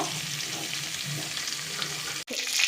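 Turmeric-and-salt-coated kalbos and rui fish pieces fry in hot oil while being turned, a steady close sizzle with a sharp clack as a piece flips, then sizzling resumes.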